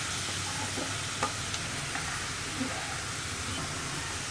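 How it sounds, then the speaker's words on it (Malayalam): Sliced onions fry in hot oil with ginger and garlic, a steady soft sizzle with occasional faint stirring clicks, close and continuous with no talk. "ഇതൊന്ന് ചൂടായി തുടങ്ങുമ്പോൾ തന്നെ നമ്മുടെ സവോള കട്ട് ചെയ്തത് ചേർത്ത് കൊടുക്കാം."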